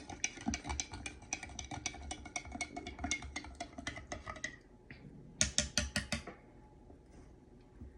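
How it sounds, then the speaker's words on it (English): A metal spoon stirs water briskly in a glass, close by, producing rapid rhythmic clinks and swishes that pause briefly and then return in a louder burst before falling quiet. "Now let's take the spoon and let's stir it up really well."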